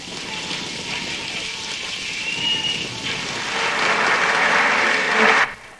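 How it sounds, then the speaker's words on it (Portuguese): Sustained applause from a crowd welcoming hostages returning home after the Iran hostage crisis, a dense patter that builds toward the end before cutting off abruptly. "o homem que recebeu a maior salva de palmas em um lugar onde normalmente isso não é bem visto foi Gilles Mathieu"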